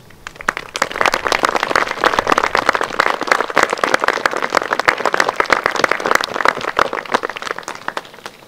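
Audience claps steadily for winning schoolchildren at a village ceremony unveiling a Petőfi Sándor bust, dense even applause that holds at a moderate level from start to finish with no talk over it.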